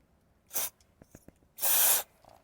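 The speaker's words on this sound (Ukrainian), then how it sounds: "я хочу пропшикати кришу" Two hissing bursts of aerosol lubricant sprayed onto the sliding roof rails and roller channel of a truck, a short puff then a longer spray, with faint handling clicks between them.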